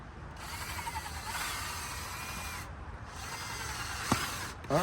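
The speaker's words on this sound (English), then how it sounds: "So I'm going to take this very long drill bit" A power drill with a very long bit whirs steadily into a wooden planter's bottom for several seconds, its pitch wavering, ending with a couple of brief clicks and a sharp knock.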